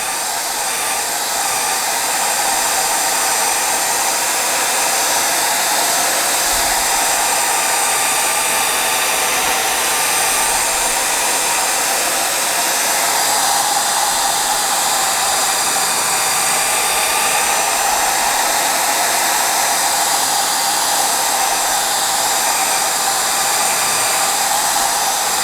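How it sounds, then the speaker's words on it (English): A hair dryer blows continuously at a constant, loud, even whoosh while drying homemade gesso on journal book pages, with no pauses or other sounds. "I would just use my hair dryer to blow it dry"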